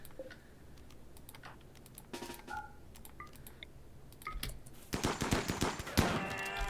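Turret gunfire in the video game RimWorld, scattered clicky shots building into a louder, rapid volley of crackling bursts toward the end.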